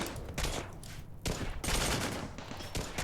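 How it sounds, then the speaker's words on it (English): SMG fire in the video game RimWorld: dense, continuous bursts of rapid gunfire in overlapping volleys, loud and sustained with brief gaps. "SMGs are doing their job."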